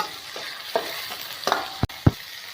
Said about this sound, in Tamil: தக்காளி நல்லா வணக்கி விடலாங்க.